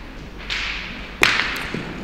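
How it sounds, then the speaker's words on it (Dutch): A solid boules shot in a Dutch masters tournament semifinal, the thrown ball striking another and knocking it away: a soft thud first, then one sharp, bright metallic clack with a short ringing tail, outdoors at moderate distance. "Heel solide schot, schiet de bal mooi weg."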